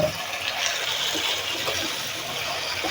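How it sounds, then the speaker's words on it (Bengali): Stinging catfish (shing fish) being rinsed in water for a bean, potato and tomato curry, a steady sloshing and splashing of water that runs continuously at close range with no talk. "এই যে শিং মাছ ধুয়ে রাখছি"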